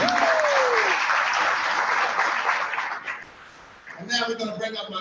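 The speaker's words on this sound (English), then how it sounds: "Can y'all give our speakers that's coming forward a round of applause?" A conference audience applauds as speakers come forward, broad steady clapping that thins out near the end as a voice starts talking over it.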